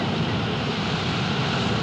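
Roaring Atlantic waves break on the coast at Saint-Jean, Newfoundland, as a constant, dense wash of surf that stays loud and steady throughout, with no voices.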